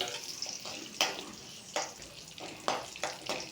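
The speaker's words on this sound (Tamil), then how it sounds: "முந்திரியை போட்டு வறுத்து எடுத்துருவோம்." Cashews and raisins fry in hot oil for chicken biryani, a crackling sizzle broken by several sharp stirring scrapes and clinks, close and without speech.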